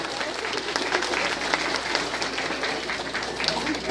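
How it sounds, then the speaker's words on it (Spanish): A crowd at an outdoor mass wedding applauds the groom, steady clapping throughout with faint voices mixed in beneath. "aplausos para el novio"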